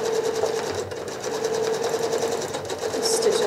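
Sewing machine runs in a steady fast hum of stitches while quilting a boomerang design, close and continuous, with a brief pause and a faint voice in the background.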